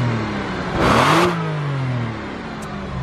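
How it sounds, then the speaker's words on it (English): A Porsche Boxster S engine idles, then blips once in a quick, loud rev that rises and falls back to a steady idle, heard up close with no talking. "All right, one rev real quick, Christian."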